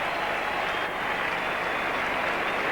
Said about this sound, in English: And a tremendous cheer here